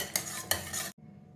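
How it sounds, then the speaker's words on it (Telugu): Cooked dal for tomato pappu is mashed with a hand masher in a pot, giving a close, wet, scraping churn with two sharper knocks, then cutting off abruptly to a low hum. "పప్పు ఉడికాక ఈ విధంగా స్మాషర్తో స్మాష్ చేసుకోవాలి."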